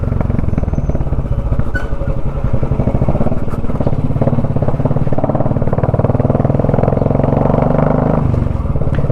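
A Royal Enfield Bullet 350 motorcycle with a modified silencer exhaust thumps loudly and continuously on a village ride, its deep rapid beat steady throughout.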